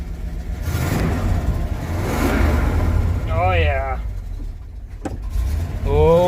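A 1967 Buick Skylark pulled from a storage unit, its engine idling with a lumpy rumble and swelling into revs, with people talking over the running motor.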